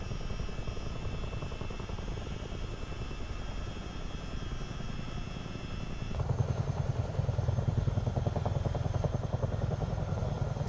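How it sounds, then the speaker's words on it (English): Simulated helicopter in Microsoft Flight Simulator 2024 flying low along a river, continuous rotor thump and turbine drone that grows louder and heavier partway through as the sound shifts, with no talking. "I love this helicopter. It flies like a dream in here."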